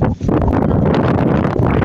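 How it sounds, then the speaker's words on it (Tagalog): Strong wind buffeting the microphone in a loud, continuous roar with no pauses, outdoors on farmland near a nature pool. "napakalakas ng hangin pa rin."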